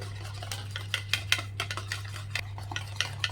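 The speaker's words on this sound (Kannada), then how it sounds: "ಒಂದು 6 ಟೇಬಲ್ ಸ್ಪೂನಷ್ಟು ಕುಕ್ಕಿಂಗ್ ಆಯಿಲ್ ಹಾಕ್ತಾಯಿದ್ದೀನಿ. ಮಿಕ್ಸ್ ಮಾಡಿ." A spoon stirs plum cake batter in a bowl right after six tablespoons of cooking oil go in, giving close, irregular clinks and scrapes against the bowl over a steady low hum.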